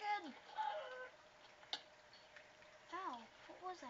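Chickens clucking in the Minecraft Xbox 360 edition, several short, faint clucks scattered across a few seconds with a single sharp tick in between and no talk.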